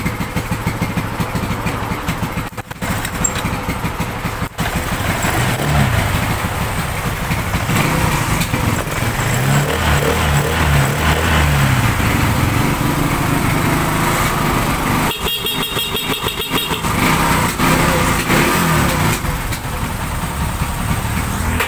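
A fuel-injected Honda Beat scooter engine runs continuously at idle with a steady, buzzing hum up close, a few brief rattling bursts breaking in along the way.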